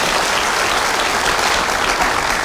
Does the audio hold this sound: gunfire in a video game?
no